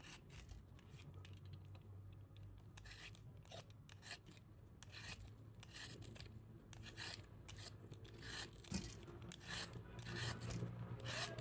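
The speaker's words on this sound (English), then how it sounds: "the peeler here guys, it peels so good and easy" A vegetable peeler scraping the skin off a pumpkin during Jamaican home cooking, heard as a continuous dry rasping with repeated rhythmic strokes, fairly close and steady throughout with no talking.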